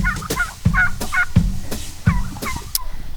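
Turkeys on a snowy Canadian farm gobble loudly and close by in repeated bursts, with regular heavy thumps running underneath as the birds are chased.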